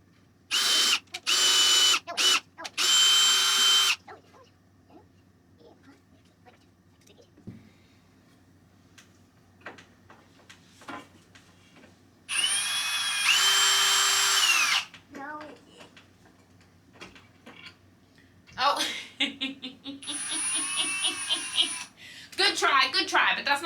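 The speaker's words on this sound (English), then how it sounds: "We're gonna take the drill." A cordless power drill whirs in several short bursts and one longer run, separated by quiet stretches with soft voices and small clicks.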